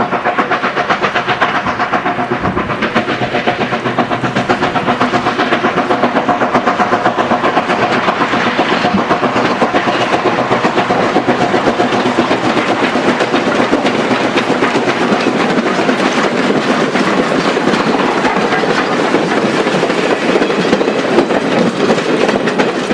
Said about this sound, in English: a train heads for the station at Tiefa